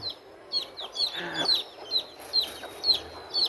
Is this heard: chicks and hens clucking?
yes